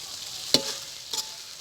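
A spoon stirs vegetable curry with coriander in a pan, making two quick scraping strokes over a soft, continuous sizzle. No one speaks.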